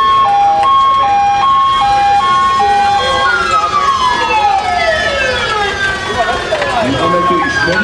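A 1929 Praga fire engine sounds its siren in a fire brigade parade in Černovice u Tábora, first as a loud two-tone wail and then as a swooping, overlapping siren sweep, with crowd noise and a voice beneath.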